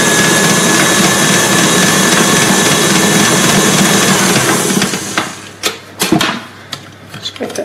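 An electric mixer beats a crumbly shortbread mix with a loud steady whirr for about five seconds, then cuts off, leaving scattered clatters and scrapes of the bowl.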